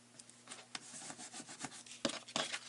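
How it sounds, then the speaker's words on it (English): Adhesive being rubbed down onto cardstock while making a sweater card, heard as a close, soft, continuous scraping rub with uneven strokes and a couple of firmer pushes near the end. "Give that a nice rub."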